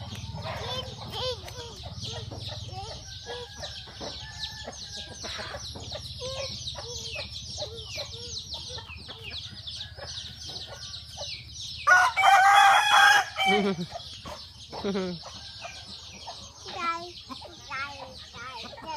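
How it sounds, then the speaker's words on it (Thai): Chickens cluck steadily throughout at a poultry-raising area on a grandparents' farm, with a rooster's loud crow bursting out near the end amid nearby bird calls. "ไก่ไก่ไก่ไก่ไก่ค่ะไก่"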